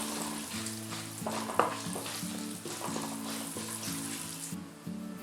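Dried red chillies, chana dal and another lentil fry in hot oil for spicy garlic rice, producing a steady close sizzle with light stirring and scraping, fading slightly just before the end.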